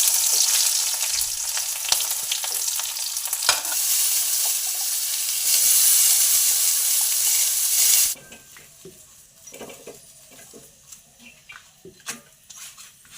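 Kohlrabi and potato bhaji frying in oil in a pan hisses loudly and steadily for several seconds, then drops abruptly to quieter spitting crackles and occasional stirring knocks.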